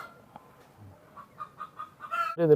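A rooster imported from Oman, a Teddy bird, clucks in a few short soft calls before breaking into a louder, harsher crow-like burst at the end, fairly close and alone.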